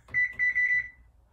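An oven timer set while baking butternut squash gives a quick series of about six short, high electronic beeps, close and clear, before falling silent.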